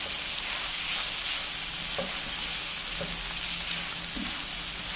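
Pasta is stirred into chicken masala in a hot pan, Pakistani style, with a continuous close sizzle of frying and soft scraping of the spoon, steady throughout with no talking.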